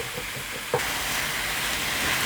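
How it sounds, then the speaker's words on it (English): Pork and onions browning in a pan for Filipino dinuguan, a continuous broad hiss of frying, close and steady, with one brief knock near the start. "So we'll let it go until it gets a nice brown before we introduce the magic ingredient that makes pork and onions a true Dinuguan."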